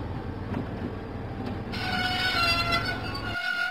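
A diesel engine train runs along the track in a Thomas & Friends video game, giving a continuous rumbling rail sound with a brighter, louder layer joining partway through.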